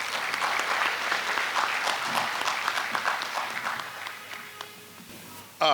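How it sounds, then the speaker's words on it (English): An audience at a medical college induction ceremony in Ghana gives a sustained round of applause, a dense, even clapping that gradually dies down before a sudden final sound. "Let's welcome him with a hand clap."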